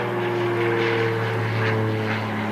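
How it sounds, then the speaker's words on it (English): A propeller airplane passes overhead above a remote stretch of the Koyukuk River north of the Arctic Circle in Alaska, its steady droning engine hum holding loud and constant without any voices. "there's a plane flying over"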